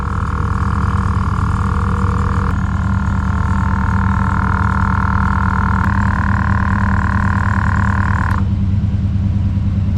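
An air compressor on an RV hums loudly and steadily as it builds pressure toward 120 psi, its drone shifting pitch in a few distinct steps before settling.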